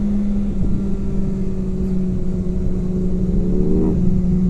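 A BMW S1000XR motorcycle engine holding a steady mid-pitched drone while the throttle is adjusted, with a brief rise in pitch near the end, heard close alongside continuous wind rush.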